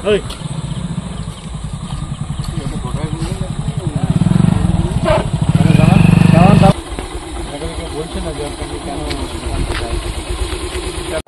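A motorcycle engine runs close by with a steady low rumble that swells louder for a few seconds near the middle, then settles back, while people talk over it.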